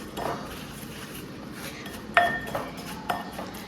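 Crushed biscuits stirred with melted butter in a bowl as the base for a no-bake strawberry cheesecake, giving soft scraping and a few sharp clinks of a utensil against the bowl, close up, with no talking.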